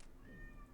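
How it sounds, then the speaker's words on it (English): A pet cat lets out a short, faint, drawn-out yowl in a quiet room, distant and thin beneath faint background noise. "My cat is screaming"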